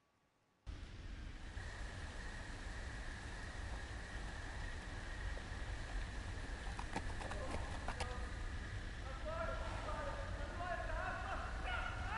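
Horse hooves in a Game of Thrones video game clip-clop steadily through a constant rainy, rushing background, with soft rhythmic steps and a few brief clatters partway through.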